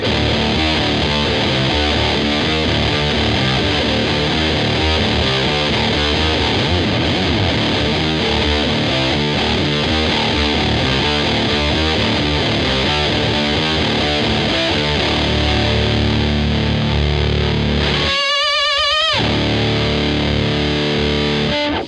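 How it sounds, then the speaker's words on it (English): A heavily distorted electric guitar with an octave-down whammy effect chugs through a driving riff with a thick, deep low end, sustained and loud, with a brief squealing pitch sweep near the end. "I switch on my whammy to the octave harmony down to really kind of boost up that low end"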